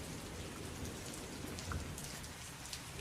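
Soft, steady rainfall patters on a surface with a faint, even hiss and scattered droplet ticks, heard alone.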